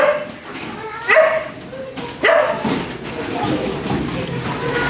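Several sharp dog barks and yips ring out in bursts, fairly close, with people talking and outdoor background noise throughout.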